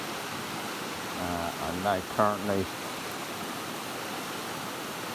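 Steady broadband rush of a woodland stream flowing through Horner Woods near Porlock, continuous and even, with someone talking briefly over it near the middle.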